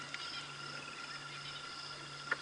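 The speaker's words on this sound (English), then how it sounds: "There's tremolo sand frogs." Tremolo sand frogs call at dusk beside a flowing stream, a faint, distant chorus of steady trilling tones with a soft click or two, with no voices.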